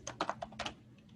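Quick bursts of typing on a computer keyboard, a handful of crisp key clicks in an irregular rhythm, close and fairly quiet with no talking.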